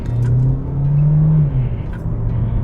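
A 2023 Hyundai Tucson with a 2.0 MPI engine, in sport mode, revs up loudly from inside the cabin, the engine note rising and holding for about a second before easing back to a steady droning hum.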